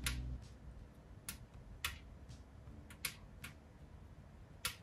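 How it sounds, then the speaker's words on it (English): Green coffee beans roasting in a home oven reaching first crack: sparse, sharp little pops at irregular intervals over a faint background hum, fairly quiet and close. "The first thing you're listening for is called first crack."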